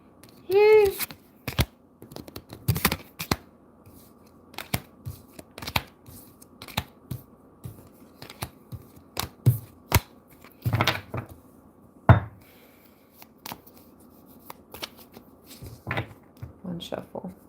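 Tarot cards being shuffled by hand, a series of crisp riffling bursts and taps spaced irregularly across the span, close and fairly loud, with a voice speaking briefly at the start.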